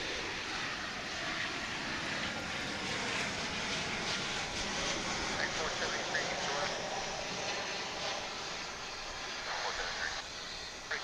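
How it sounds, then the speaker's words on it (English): An American Airlines Boeing 737-800 jet arriving at DFW International Airport, inbound from Albuquerque, gives a steady broadband engine roar that holds loud and even throughout, with a voice talking over it. "This is American Airlines Flight 1421, a"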